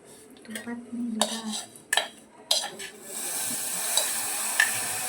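Roasted vermicelli tipped into hot ghee in a pan, with a few sharp clinks of utensils against the pan early on, then a steady close-up sizzle that builds and holds through the second half.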